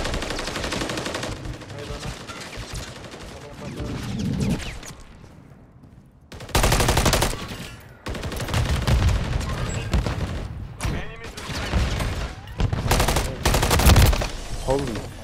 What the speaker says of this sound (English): I'm getting shot by the whole fucking lobby